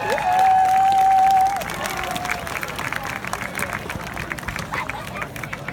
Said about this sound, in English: Let's give our dance team a great big round of applause.